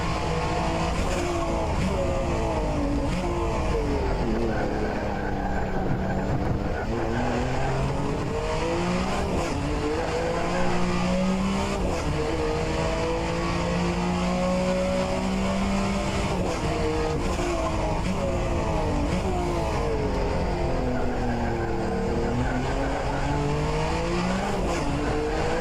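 Group C sports cars race at Sebring under evening conditions, a continuous loud engine roar with shifting pitch sweeps as the cars rev, shift and corner, plus faint tyre squeal, close and sustained throughout.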